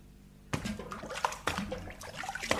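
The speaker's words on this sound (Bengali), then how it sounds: "আমাদের কবি ছোর দাদা চৌবাচ্চার জলে পড়ে হাবুডুবু খাচ্ছে" Water sloshes and splashes in a small household water tank as a person falls in and thrashes about, a sudden burst of irregular, close splashing and dripping with no talk.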